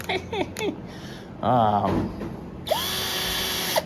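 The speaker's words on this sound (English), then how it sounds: "That's the high drill setting, like the drill bit setting." After a few vocal sounds, a Shiny Link cordless drill on its high setting spins up into a loud, steady, high-pitched whine that holds to the end.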